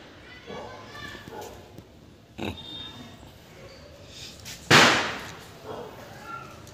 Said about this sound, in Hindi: आप पटाखे तो लाओ। पटाखे ये जलाएंगे,